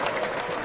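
Steady wash of applause played as a sound effect on a radio show, continuous and even with no distinct individual claps standing out.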